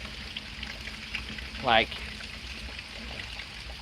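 Rainwater trickling and pouring steadily from a gutter during an early morning thunderstorm, a continuous wet splashing stream heard close by while a person talks over it.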